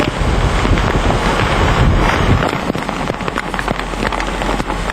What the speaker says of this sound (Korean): 마을 뒷숲이 흔들리더니 갑자기 비가 쏟아진다.